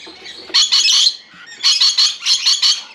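Caged breeding birds behind netting squawk in loud, harsh bursts, two clustered volleys of rapid calls close by, with a short quiet gap between them.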